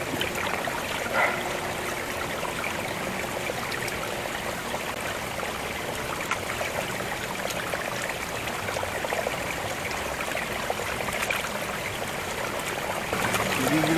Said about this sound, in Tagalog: Parang batis-batis lang yun, oh.